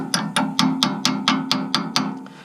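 Nine sharp metallic taps from a hammer seating a front brake rotor on a Toyota Tundra, in a steady, even rhythm, close and moderately loud, with a faint ringing tone under each strike.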